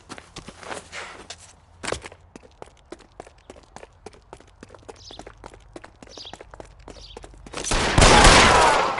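Gunfire erupts after a shouted threat, a rapid run of sharp cracking shots and footfalls, fairly loud and close, ending in a dense burst of noise.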